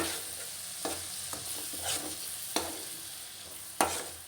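A spoon stirs biryani masala with curd and salt in a pan for egg biryani, giving a soft continuous fry hiss broken by occasional sharp scrapes and clicks against the pan.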